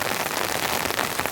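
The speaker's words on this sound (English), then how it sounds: "The rain's chucking down with full force" Heavy winter rain pours steadily onto a trail shelter, a dense, loud, continuous wash of drops drumming on the surface with no letup.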